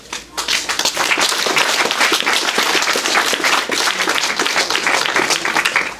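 Applause at the opening ceremony of a kindergarten: an audience claps loudly and steadily for about six seconds, a dense, close patter of many hands that starts abruptly and holds without voices.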